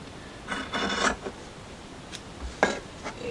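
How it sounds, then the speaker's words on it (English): Scissors trim excess fabric from a wonky log cabin patchwork block made of leftover scraps, giving a few short, close, quiet rasping snips separated by brief pauses. "I'm trying to cut that excess here"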